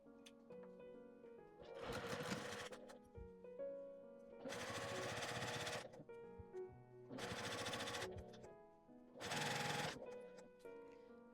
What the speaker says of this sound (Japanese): こちらも表側にミシンをかけます。